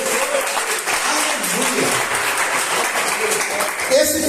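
Congregation applauding during a church service, a dense steady wash of clapping that holds across the whole stretch and swells slightly near the end, with a preacher's voice carrying faintly underneath.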